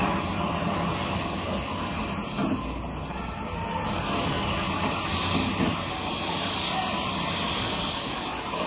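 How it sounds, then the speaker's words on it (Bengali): Milk poured into a pan of roasted semolina, giving a broad steady hiss of sizzling steam that runs throughout at moderate loudness. "সুজি ভাজা হয়ে গেছে, এবার এই দুধটা দিয়ে দিই।"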